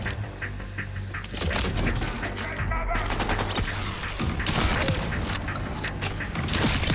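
A shotgun fires again and again in Borderlands 4, loud, heavy blasts packed closely together with booming impacts and mechanical clatter.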